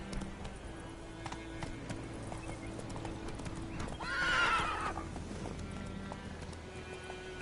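Roach the horse galloping in The Witcher 3, steady rapid hoofbeats clip-clopping throughout, with a loud whinny rising briefly in the middle over a low ambient game background.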